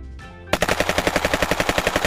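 A toy AK47 fires in a rapid burst of about twenty loud, evenly spaced electronic shots, heard close and alone after a brief quiet moment.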